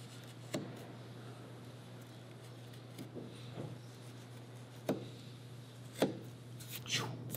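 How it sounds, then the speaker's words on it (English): A hand knife nicks a knife wall into wood to mark a dado, giving a handful of faint, sharp, isolated ticks and scrapes spaced a second or so apart over a quiet room hum. "I can come over here and nick my knife wall on this side"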